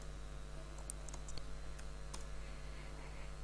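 A computer keyboard being typed on during a Python string-formatting lesson, producing a few sparse, faint clicks over a steady low hum, with no one speaking.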